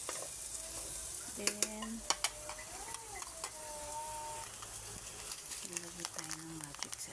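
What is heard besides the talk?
stirring and frying onions and sweet potato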